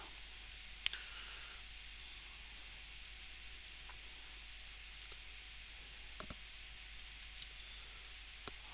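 Faint, sparse mouse clicks over a steady hiss, for an animation sound effect, with a few isolated sharp ticks spread irregularly across the stretch.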